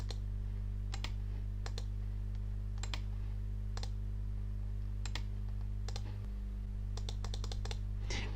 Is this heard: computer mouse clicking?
yes